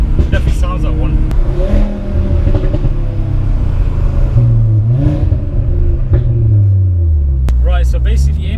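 Audi RS3 tuned to 500 bhp with a loud exhaust, driven hard: its engine rumbles close and rises and falls through several revving accelerations, with a few brief sharp exhaust pops near the end.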